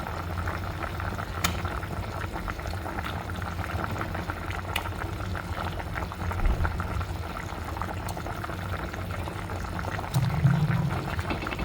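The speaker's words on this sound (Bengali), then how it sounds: "বলক এসে গেছে, ফিশটা দিয়ে দিব, মাছটা।" Water at a rolling boil in a pot for a Noakhali-style mrigal fish curry with deshi radish, bubbling steadily throughout with a brief louder splash near the end as fish pieces go in.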